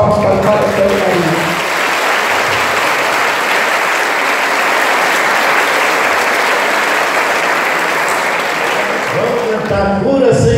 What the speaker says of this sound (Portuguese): Uma salva de palmas para o padre Antônio Maria.